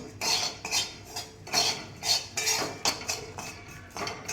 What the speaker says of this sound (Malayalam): ആവശ്യത്തിന് മഞ്ഞൾപ്പൊടി കണ്ടോ, അതും കൂടി ഇട്ട് കൊടുത്തതിന് ശേഷം നമുക്ക് മസാലകൾ നന്നായിട്ട് ചൂടാക്കിയെടുക്കാം